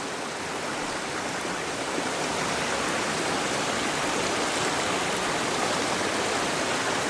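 A waterfall pours in a continuous, dense rush of white-noise water, loud and unbroken throughout, with no voices over it.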